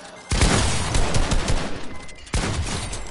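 Rapid bursts of gunfire in the Fortnite video game, two loud clusters of shots close by, crackling back to back with almost no talk.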